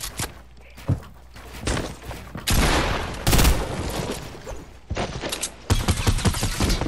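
Rapid bursts of video game gunfire crack in repeated volleys, loud and close, with sharp impacts scattered across the whole stretch and no talking over them.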